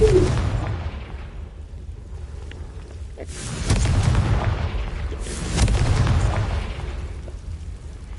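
Confringo fire curse blasts from the Hogwarts Legacy video game: two heavy, booming explosions a couple of seconds apart, each with a rumbling low roar that swells and slowly fades, loud and close with no talking.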